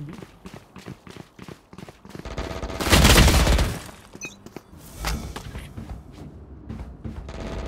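Gunfire in a shooting video game with a Stinger, heard as a dense rattle of rapid shots, a loud burst in the middle and another sharp blast later, with faint voices now and then.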